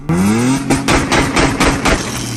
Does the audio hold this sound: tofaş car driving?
yes